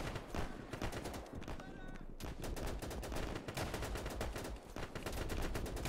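Rapid flak gun fire in the video game Easy Red 2, during the Battle of Anzio: dense, continuous bursts of loud shots that keep going across the whole stretch, with a short lull partway through.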